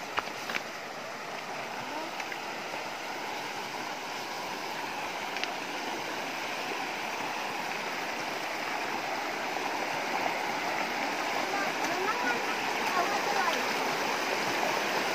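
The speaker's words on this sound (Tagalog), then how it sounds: "ito yung sapa dito" A shallow creek flows in a steady, broad rush that stays constant throughout, with no clear voices over it.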